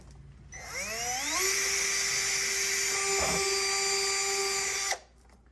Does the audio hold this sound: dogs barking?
no